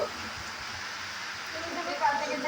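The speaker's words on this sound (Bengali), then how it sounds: "বাইরে মুসল ধারায় বৃষ্টি নেমেছে।" Heavy rain pours down outside, a dense, constant wash of noise that swells slightly toward the end, heard from indoors at moderate loudness with no clear speech.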